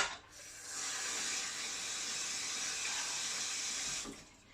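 A kitchen sink tap runs steadily for a few seconds while hands are washed beneath it, a close, even hiss of water that starts and stops cleanly with no talking.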